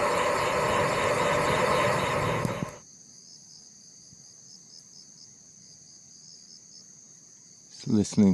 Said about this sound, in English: Listening to the crickets.